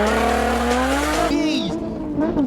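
Tuned Lotus Evora 400 at roughly 460 horsepower launching hard in first gear, the engine note climbing steadily in pitch as it revs, loud and close throughout, with a brief tyre-squeal edge partway through.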